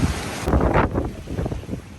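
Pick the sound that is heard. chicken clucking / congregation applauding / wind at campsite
wind at campsite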